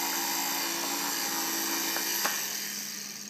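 A homemade slinky electric motor runs on a battery, producing a steady, continuous high-pitched whine over a low electrical hum. It stays close and unchanging throughout, with no voices.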